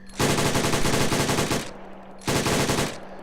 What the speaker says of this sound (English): It probably is the M240, as far as I'm led to believe, but it's just Canadianized